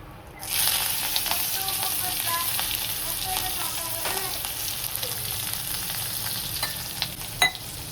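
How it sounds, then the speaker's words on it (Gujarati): Green chilies sizzle and crackle in hot oil, a steady close frying hiss with small pops, starting abruptly after a brief quiet moment. "લીલા મરચાં સરસ સંતળાય"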